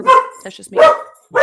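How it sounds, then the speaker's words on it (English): A dog barks in a few short bursts close by, mixed in with a person talking at a home podcast recording. "Sorry about the dog. He can't help himself."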